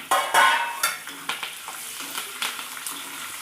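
Ingredients for temple-style pulihora tossed into hot oil crackle and sizzle close up, with a loud burst at the start followed by repeated spoon scrapes and clinks against the pan as the frying settles.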